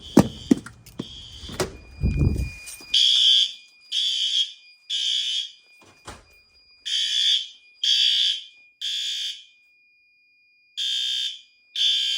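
A building fire alarm sounds during a monthly test: loud, shrill electronic tone in regular pulsed bursts of about a second each with short gaps, after opening rustles and knocks.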